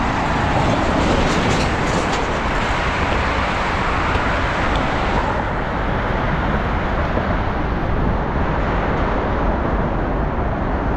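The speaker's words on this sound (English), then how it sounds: "There goes the train again. The Patco from Philadelphia to Jersey." A PATCO commuter train rumbles past nearby on the Benjamin Franklin Bridge in one loud, continuous roar that fills the whole stretch with rolling mechanical noise.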